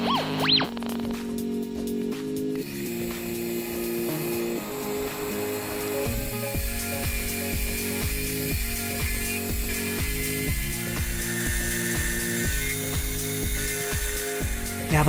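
A milling machine takes roughing cuts through metal waste stock while cutting a dovetail puzzle, a steady grinding chatter with regular rhythmic tool strikes that holds at close range throughout.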